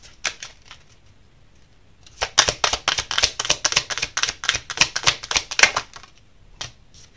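Tarot cards are shuffled and drawn by hand, a quick run of crisp, rhythmic flicking and riffling taps close to the microphone, with a few isolated snaps before and after the main burst.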